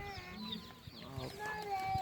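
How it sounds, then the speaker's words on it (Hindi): An old-breed black Aseel hen with a parrot beak and long tail clucks softly amid a faint background of other chickens, with low murmuring voices nearby. "ये आप एक असील मुर्गी देख रहे हैं"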